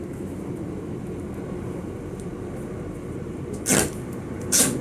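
Steady low rumble inside a moving London Overground train carriage, with a couple of brief hissing bursts near the end.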